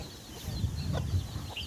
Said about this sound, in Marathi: हे बघा कोंबडीचे पिल्ले दाखवतो आणि कोंबडी